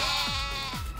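Sheep bleating in the Yakuza Like A Dragon video game minigame: two short, bleating calls over steady loud game music.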